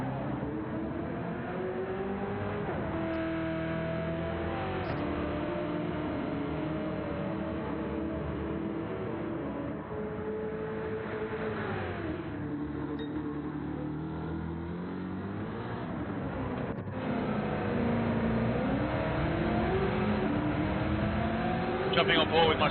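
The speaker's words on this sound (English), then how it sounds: "I'm going to listen to this Camaro and just enjoy it." A Chevrolet Camaro V8 Supercar races around a track, its engine note climbing through the gears and dropping on the shifts, then rising again, loud and close as if heard from on board, with a commentator talking over it throughout.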